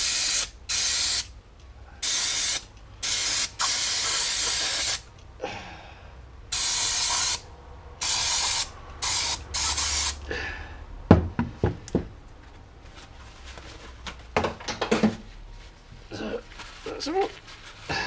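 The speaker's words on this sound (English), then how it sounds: "So we'll hit this with brake cleaner." Brake cleaner hisses from an aerosol can in repeated short bursts onto an engine part of a 1991 Toyota Celica GT, close and loud, followed by scattered knocks and clicks of tools as a person talks.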